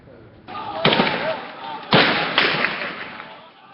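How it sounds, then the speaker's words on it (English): Sharp bursts of gunfire crack out a few times amid a noisy outdoor street scene in Tripoli, Libya, during fighting, with shouting voices in the background. "Gunfire in Tripoli as the fight for Libya's capital intensifies."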